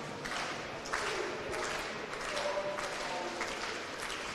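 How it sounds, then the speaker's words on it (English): An indoor crowd at a national senior bowling championship claps in moderate, sustained applause with scattered bursts, heard from a distance in a large hall. "So Michael will once again get the crowd going here."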